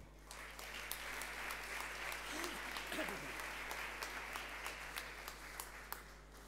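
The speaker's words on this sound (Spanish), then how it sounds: "Gracias por el aplauso." Steady applause from an audience at an Italian Immigrant Day ceremony, faint and diffuse, clapping continuously throughout with a low hum underneath.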